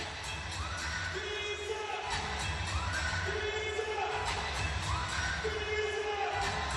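A record home crowd of 20,907 at a Virginia vs Villanova college basketball game roars in the arena, with loud sustained cheering and rhythmic chanting that rises and falls in repeated waves.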